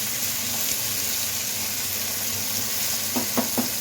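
Potatoes sizzle in a hot pan with a steady, moderately loud frying hiss, and a few quick utensil clinks near the end as they are stirred; no voices.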